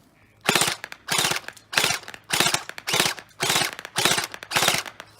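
A V3N0M gel blaster, stock internally on an 11.1 battery, fires on full auto in eight rapid rattling bursts, each about half a second, loud and close with no talk.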